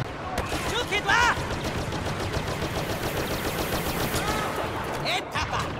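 Blaster fire from Star Wars Battlefront crackles in fast, near-continuous rattling bursts with chirping energy shots, while voices talk over the battle.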